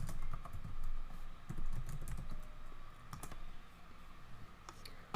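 A book title being typed into a computer search box, rapid close keyboard clicks in an uneven flurry of keystrokes, alone without talk.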